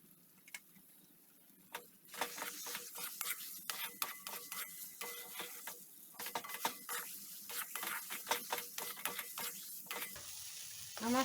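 Semolina roasting in ghee for a sweet: quiet rhythmic scraping and stirring strokes against the pan over a soft sizzle, starting after a near-silent opening, with no talking.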